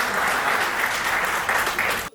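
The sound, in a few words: applause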